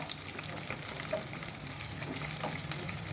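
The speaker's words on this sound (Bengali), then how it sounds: "মাঝে ভালটারে ভেজে নেবো কাঁকরোলটা" Spiny gourd frying in oil in a pan, a quiet, even sizzle running throughout with faint crackles and no voices.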